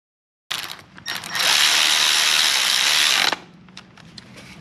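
A ratcheting tool working an 8mm bolt on the starter of a 2012 Chevy Traverse, short clicks followed by a sustained loud buzzing ratchet run of about two seconds, then quieter scattered clicks, close and without talk.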